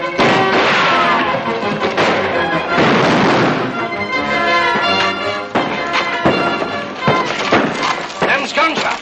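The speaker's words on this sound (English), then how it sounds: "Them's gunshots." Gunfire rings out during a shootout in a 1941 western film: a rapid, loud barrage of sharp cracks and bangs. The shots come in dense bursts with a few short pauses between them.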